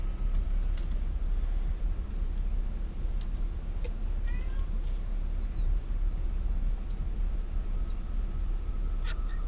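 A voice imitates wild cats meowing aboard a ship during a tabletop role-playing session: a few faint, brief, rising meow-like cries over a steady low background hum.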